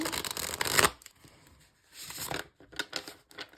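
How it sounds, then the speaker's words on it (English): Tarot cards are shuffled in a close, crisp burst of riffling, followed by quieter, sporadic card handling. "So we're going to shuffle one more time."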